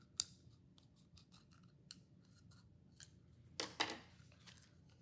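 Scissors snip through paper for a kids' craft bird: a series of quiet, sharp cuts spaced irregularly, ending with a couple of louder, closer snips near the end.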